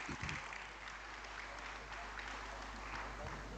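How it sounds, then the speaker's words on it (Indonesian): Audience at a formal Indonesian gathering applauding, a steady dense crowd of clapping over a low electrical hum, heard at moderate distance. "Semua kita tepuk tangan untuk Ibu Sri Kandi."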